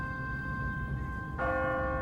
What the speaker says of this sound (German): No one's ringing that bell.